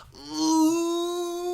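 A voice imitates a knocked-out fighter's breath, producing one long, drawn-out moaning pant that rises and holds steady, close and fairly loud.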